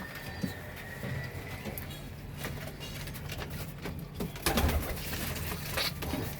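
Soft pigeon coos murmur close by as the pigeons are fed, over a steady rustling, busy background, with occasional flutters and a louder scuffle near the end.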